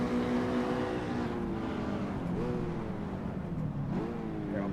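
Mazda MX-5 race car engine in Assetto Corsa, droning steadily with rising pitch through the gears and brief dips at each upshift, several cars' engines blending together.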